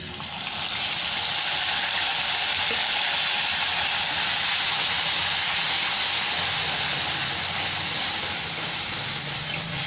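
Tomato, ginger and green chilli fry in hot oil over lowered gas for a Bengali vegetarian potol curry, giving a steady, loud, continuous hiss and sizzle that holds unbroken throughout.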